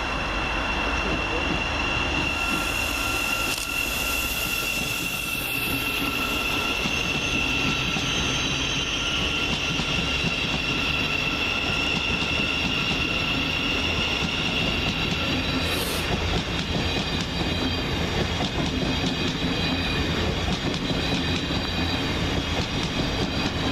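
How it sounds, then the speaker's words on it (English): Class 700 Thameslink train 700-107 departing Peterborough station towards Horsham, a continuous loud rumble of wheels and traction whine with brief squeals, close by and sustained throughout. "departing in the opposite direction is 700-107, working the 1124 Thameslink service to Horsham via London St Pancras"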